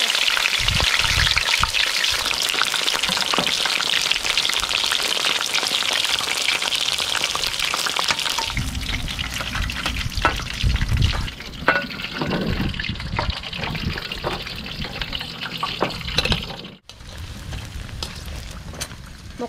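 Big mushrooms and chicharon stir-fry in oil, giving a loud, close, crackling sizzle with popping splatters throughout. The tone shifts partway through as the food moves in the pan, and no one speaks.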